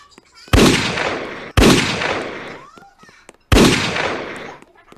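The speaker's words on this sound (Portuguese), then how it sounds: "Eu ouvi tiros." Three loud, sharp gunshot blasts in the Roblox game Piggy, each followed by a decaying rumble, spaced about a second apart, with faint background sounds between them.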